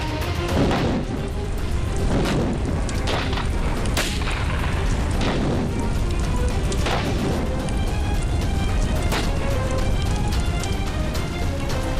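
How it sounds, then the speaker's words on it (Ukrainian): A landmine or found explosive detonation: a sustained roar of booming blasts and crackling debris, dense and loud throughout, with several sharper bangs standing out. "Як бачите, хлопці, сила вибуху невелика але осколки могли вас покалічити."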